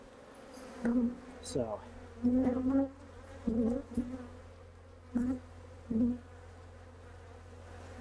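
Honey bees buzzing near an opened hive during an October oxalic acid treatment, several close, loud individual buzzes in short bursts over a low background hum, with a brief spoken word.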